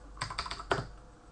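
Keystrokes on a computer keyboard as a Linux terminal command is entered, a quick cluster of four or five close, crisp clicks followed by a short pause and one firmer tap, with no talking.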